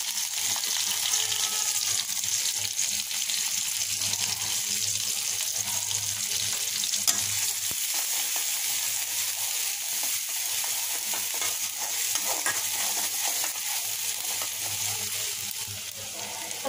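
Chopped onions fry in hot mustard oil in a pan, producing a continuous soft hiss and sizzle with faint stirring scrapes, moderately quiet and steady throughout.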